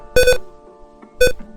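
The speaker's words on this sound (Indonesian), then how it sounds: "maka LED dan buzzer akan berbunyi" A piezo buzzer on a DHT11 temperature and humidity alarm for a chicken coop gives two short, loud electronic beeps about a second apart, with quiet hum between them.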